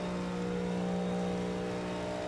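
A Cadillac GTP race car in the iRacing sim holds a steady, loud engine drone at high revs, a continuous tonal roar with no break.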